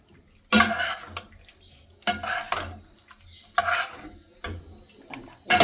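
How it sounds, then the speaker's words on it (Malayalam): Food is stirred in a pan with a utensil in a home kitchen, several distinct bursts of scraping and clinking against the pan separated by short pauses, close and fairly loud with no talk. "നമുക്ക് ഈ വേപ്പിച്ചിട്ട് നന്നായി ഇളക്കി ചേർത്ത് വെക്കുക."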